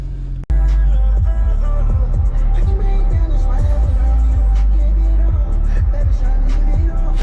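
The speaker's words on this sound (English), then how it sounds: "The 335 IS is pretty loud, bro." Loud engine rumble from a stock BMW 335is E92, a steady deep drone with repeated throttle blips and crackles throughout, close and dominant with no talk over it.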